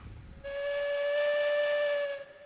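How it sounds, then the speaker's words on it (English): A steam locomotive whistle in the railroad game Railroads Online blows at low boiler pressure, sounding a single steady, breathy tone with hiss for about two seconds before cutting off, loud and alone. "You can tell the whistle's not pitching 2 notes, and that means that it's low."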